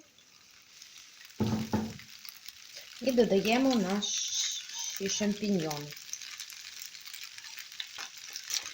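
Macaroni sizzles faintly in a frying pan while a spoon stirs through it, under someone speaking Ukrainian in short bursts.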